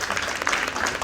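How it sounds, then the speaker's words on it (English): Audience applause at a key-to-the-city ceremony in Dayton, a short steady burst of clapping from a crowd filling the whole moment. "Give him a round of applause as well."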